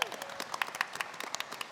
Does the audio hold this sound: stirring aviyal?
no